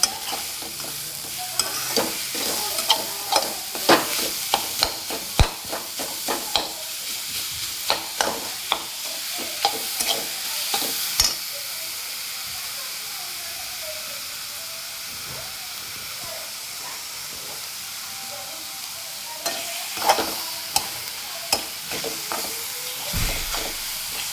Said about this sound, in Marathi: आता याच्यामध्ये आपण गूळ घातलेला आहे आता हे आपण व्यवस्थित मिक्स करून घेऊया